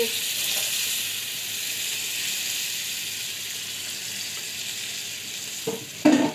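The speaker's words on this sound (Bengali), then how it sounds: "এবার এই জলটা দিয়ে দিতে হবে এবং ভালো করে নেড়ে নিতে হবে।" Onion paste and ginger-garlic paste stirred with added water in a hot pan, a steady bright hissing simmer close by, with a couple of louder spoon knocks near the end.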